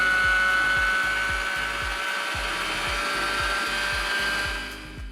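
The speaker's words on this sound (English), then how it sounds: "the planetary mixing action, which rotates the attachment around the bowl while spinning it simultaneously" Budget stand mixer with planetary mixing action and a stainless steel bowl, running with a steady motor whine and a fast rhythmic ticking from the rotating attachment.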